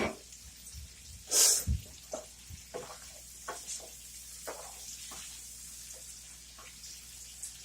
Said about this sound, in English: So we're just going to stir this up a little bit.